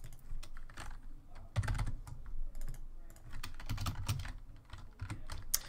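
Rapid keystrokes clatter on a computer keyboard in irregular bursts, close and fairly quiet, with no voices.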